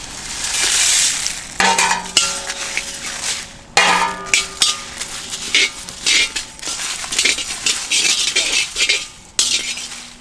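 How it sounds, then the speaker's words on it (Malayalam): Cumin, fennel, cinnamon, cloves, bay leaves and dried chillies dry-roasting in a pan, with rhythmic scraping stirs, metallic clinks against the pan and a light hiss, close and fairly loud. "ജീരകം, പെരുംജീരകം, പട്ട, ക്രാമ്പ്, ബേ ലീവ്സ്, വറമുളക് എല്ലാം കൂടി ഇട്ടൊന്ന് വറുത്തെടുക്കുക."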